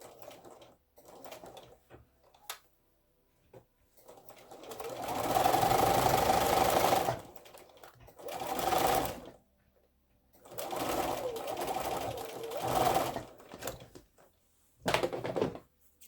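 A sewing machine stitches pieced quilt block sections, running in several bursts of steady mechanical whirring and clatter separated by quiet pauses and small handling clicks.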